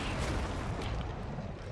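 An explosion in the video game Resident Evil 3 sounds as a dense, rumbling roar of blast noise that fills the whole stretch without clear separate bangs.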